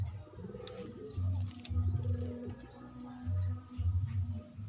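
A large pigeon coos in low, rounded bursts, repeating several times close by with brief pauses between calls.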